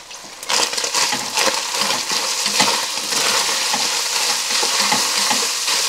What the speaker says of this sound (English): You might be able to hear that crackling, that sizzling sound where that fat is now starting to cook that beef.